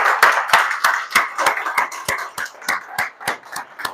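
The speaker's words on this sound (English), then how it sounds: "let's give a round of applause for Shale" A small group claps in a round of applause for Shale, an alumnus presenting at a 1 Million Cups Chicago morning meeting; about a dozen sharp, fairly sparse hand claps arrive in an uneven rhythm, close and clear with no talking.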